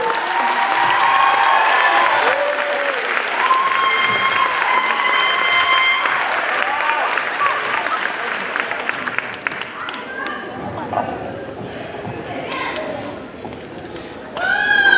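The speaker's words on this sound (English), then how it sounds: "Let's give these three another round of applause." Audience applause fills a 5th grade moving-on ceremony at Ann Visger in River Rouge, steady and close, with children's and adults' voices chattering over it before it thins out toward the end.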